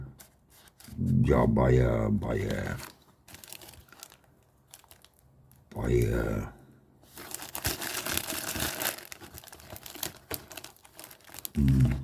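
Tape-wrapped packaging around a fountain pen being torn and unwrapped, with loud crinkling bursts and ripping in clusters, the longest near the end. Talk runs between the bursts.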